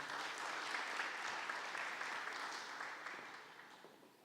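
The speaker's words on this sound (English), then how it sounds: "Now clap." Audience applause at a community event honoring a local figure, a dense, steady wash of clapping from a crowd that holds strong throughout and tapers slightly toward the end.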